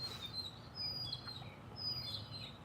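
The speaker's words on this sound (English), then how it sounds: "The birds think I'm singing with them." Birds chirp and tweet faintly in the background, with repeated high calls over steady low room noise and no speech.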